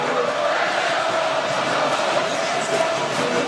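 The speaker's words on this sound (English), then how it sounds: "This crowd is into it." Stadium crowd at a Buffalo Bills home game against the Jacksonville Jaguars on Monday night, a steady, dense roar of cheering voices that holds evenly throughout with no pauses.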